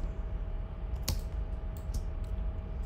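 Computer keyboard keys are pressed in a few quick, sparse clicks close by, including one sharper tap, over a steady background hum.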